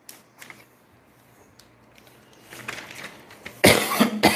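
A teacher coughs during a Marathi maths lesson on fractions: a few faint scattered sounds, then a loud burst of close coughing near the end of the short stretch, with no words spoken.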